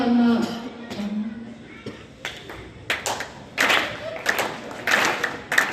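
A rally audience claps in scattered bursts, sharp hand claps building into brief rounds of applause with a few thuds, heard at moderate distance amid crowd murmur.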